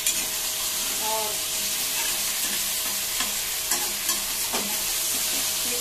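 Chicken sizzles and fries in a kadhai with ginger, garlic and garam masala for biryani, a steady loud crackle close up with occasional stirring scrapes of a spoon against the pan.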